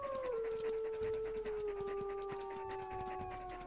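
Wolf pups in WolfQuest Anniversary Edition howl together in long, sustained, slightly wavering tones that slowly fall in pitch, layered over each other, with soft panting and rustling beneath.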